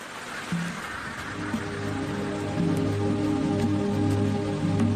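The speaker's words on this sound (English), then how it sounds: "Where there is rain, there are waterfalls." Steady rain pours in a Thai rainforest near a waterfall, a dense even hiss with a continuous low droning hum of sustained tones running beneath it.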